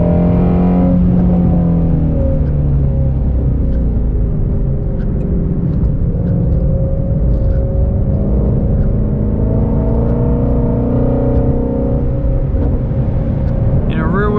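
A 2020 Ford Mustang Shelby GT350R drifting on a wet track in the rain, its engine roaring loud and unbroken from inside the car, pitch rising and falling as the throttle works.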